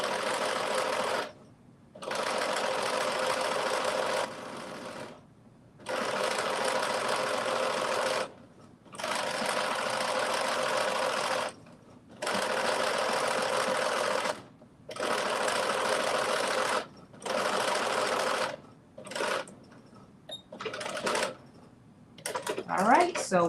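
A domestic sewing machine runs steady stitching bursts, topstitching a drop-shoulder long-sleeve top, loud and close, each run lasting a few seconds and separated by short pauses.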